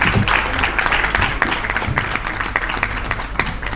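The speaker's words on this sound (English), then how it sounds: "Shall we give another round of applause for them?" An audience applauds a children's cultural dance performance at an early childhood education conference, with dense, steady clapping filling the room and sharp individual claps standing out throughout.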